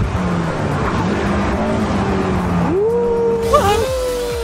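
A Honda S2000 engine revs up hard, loud and close, with a rising pitch sweep toward the end as it climbs through high revs over steady road noise.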